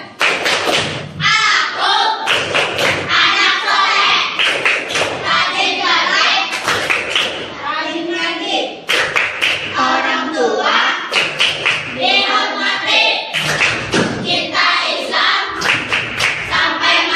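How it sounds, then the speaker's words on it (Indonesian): A class of schoolchildren performs a rhythmic clapping chant, loud close claps and thumps in a patterned beat mixed with children's chanting voices. "Tepuk anak soleh."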